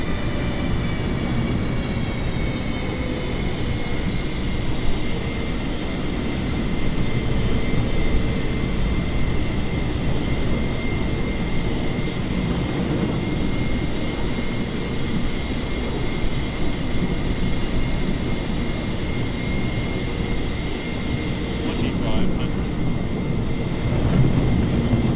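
A Singapore Airlines Boeing 747 lands at Jeju Airport in the rain. Its engines make a steady, loud jet roar for the whole stretch, with broadband rushing noise and no voices.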